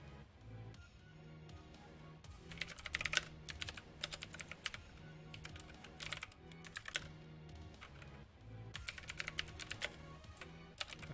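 Computer keyboard keys clack in uneven bursts of quick taps separated by short pauses, close and clear, with faint background sound beneath.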